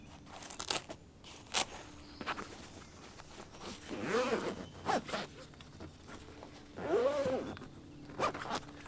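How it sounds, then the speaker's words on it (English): Fabric zippers on the doors of a James Baroud rooftop tent being pulled closed in several separate runs, each a close, rasping zip lasting about a second, with small handling rustles between them. "you want to zip all of the doors closed to just past this elastic band"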